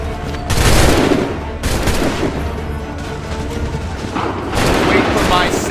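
Musket volley fire during a Bunker Hill battle in the video game Assassin's Creed III, with a loud crackling volley, then further ragged volleys amid battlefield noise, under shouted commands.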